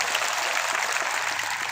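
Steady, dense applause from an audience at a political rally in Rajasthan, loud and continuous throughout with no talk over it.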